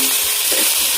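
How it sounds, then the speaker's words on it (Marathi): Chopped tomatoes go into a pan of frying onion and garlic-ginger paste, a close, loud, steady sizzle with a faint soft stir partway through and no voices. "आता आपण त्यात टाकूया टमाटर. कट केलेले टमाटर"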